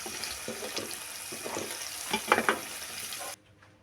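Prawns frying in hot oil in a pan while being stirred, a close, steady sizzle with scraping and clinking of a utensil building toward the end before cutting off abruptly, with no talking.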